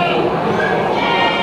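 Etawah PE goats bleat at a busy livestock market in Wonosobo, the calls blending into a dense, continuous crowd din with people talking throughout.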